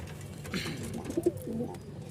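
A pair of grizzle pigeons with a chick gives a short, low coo up close, a brief throaty call rising over soft background noise.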